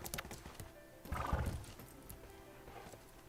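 Horse hooves clip-clop and a horse neighs in the Bella Sara video game, with a brief whinny near the middle over a soft, fairly faint rhythmic hoof pattern.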